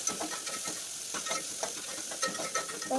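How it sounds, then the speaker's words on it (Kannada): Onion and curry leaves frying in hot oil while being stirred, a steady close sizzle broken by repeated scraping strokes of a spoon in the pan, with no voices. "ಈರುಳ್ಳಿ ಮತ್ತೆ ಕರಿಬೇವು ಸೊಪ್ಪು ಇದು ಸ್ವಲ್ಪ ಗೋಲ್ಡನ್ ಬ್ರೌನ್ ಆಗೋ ತನಕ ಫ್ರೈ ಮಾಡ್ಕೊಳ್ಳಿ"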